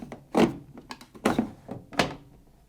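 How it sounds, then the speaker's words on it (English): A plastic dispenser drawer on a Samsung ecobubble washing machine being slotted back into place: a close series of dull thunks and clicks in an irregular rhythm, with no talk over them. "And just slot the dispenser drawer back into place."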